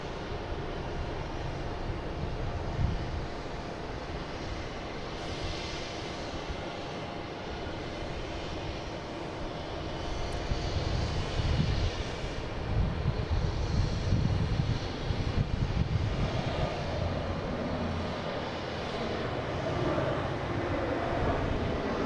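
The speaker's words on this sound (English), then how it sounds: "here we got JetBlue here taking off. Be heading to Milan, an A321neo flight 331" JetBlue Airbus A321neo jet taking off from Boston Logan International Airport, a steady broadband engine roar at a distance that swells louder in the second half, with no talking.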